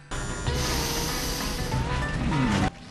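An old man in the anime Great Teacher Onizuka sniffs a woman in one long, drawn-out, breathy snort, sustained and fairly loud, with faint tonal sounds underneath.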